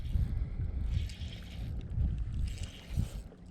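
A boat departs across Lake Oroville's West Branch, its low rumbling engine steady and fairly distant, with wind buffeting the microphone along the shoreline and no talk.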